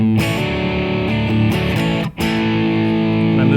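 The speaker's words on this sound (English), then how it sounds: "So I raised it up a little bit so it's going to sound a little bit more edgy." Electric guitar played through a distortion pedal with its tone control turned up for a sharper, edgier sound; sustained overdriven chords ring loud and steady, with a brief break near the middle before the strumming resumes.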